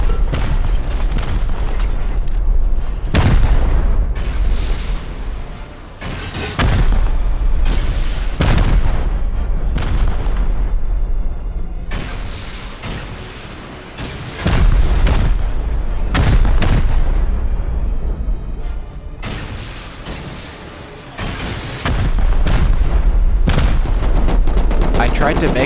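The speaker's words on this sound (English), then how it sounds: "my base was being pummeled with rockets." Rockets pound a base in the video game Rust, a dense, loud barrage of repeated booming explosions and blasts that carries on nearly without a break throughout.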